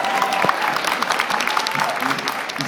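An indoor gathering breaks into a dense wash of clapping for Brother Poulin, loud and sustained across the room, with a few voices calling out over it.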